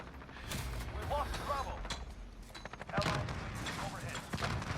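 M4A1 rifle gunfire in a video game, several sharp bursts of shots scattered through the clip, with a voice talking over the gameplay sounds.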